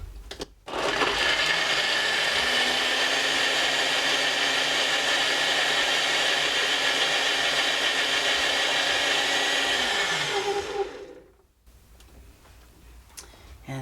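A blender whirs through a green kale smoothie in one loud, steady run of about ten seconds, then spins down and stops with a short fade, and no one talks.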